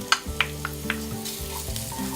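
Minced garlic and onion sauté in olive oil with a steady, close sizzle, punctuated by a few sharp clicks and scrapes of stirring early on, with low music running underneath.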